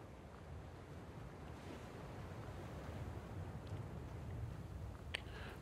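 Sea waves washing onto a shore in the video game Black Book, a steady soft rolling surf with wind, distant and fairly faint, no voices.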